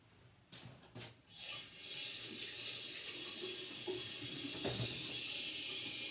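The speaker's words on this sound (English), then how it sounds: "remember to wash your hands before you go" Water gushing steadily from a tap while hands are washed, a loud, even hiss of running water that starts after a few brief splashy bursts and continues alone to the end.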